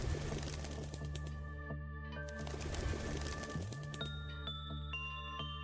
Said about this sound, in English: And I hear that bird.